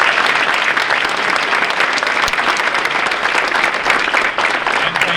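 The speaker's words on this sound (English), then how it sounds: "So now, if you'd like to give him a round of applause," Steady, dense audience applause fills a hall at a fall varsity sports awards event, many hands clapping loudly and continuously for several seconds with a faint voice underneath.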